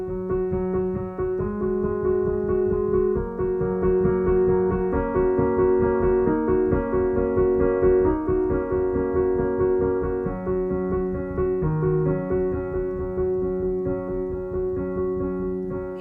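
Piano notes played on the black keys bounce back and forth in a steady, flowing pattern, blurred together by the sustain pedal into a continuous, even-level melody with no voices.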